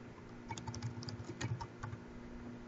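Rapid typing on a computer keyboard, entering user details such as a name, email address or library card number; steady clusters of soft key clicks at close range with no talking.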